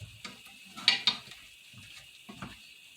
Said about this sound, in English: Make sure you stir it